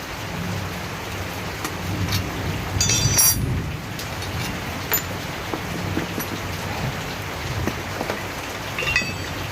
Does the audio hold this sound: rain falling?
yes